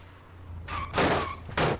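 Cars crashing in the BeamNG.drive driving game: a few heavy thudding impacts in quick succession, fairly close and loud, with crunching bursts and no talk.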